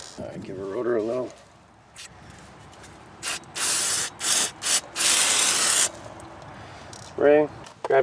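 Several short, sharp aerosol spray bursts onto a brake rotor hiss in quick succession, then one longer blast; brief speech comes before and after.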